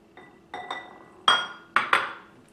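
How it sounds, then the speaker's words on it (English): Melted coconut oil and honey are combined in a bowl as cookie wet ingredients, giving a few sharp, separate clinks of a utensil against the dish, growing louder toward the end. "I like to combine the wet ingredients together first before I add it to the dry"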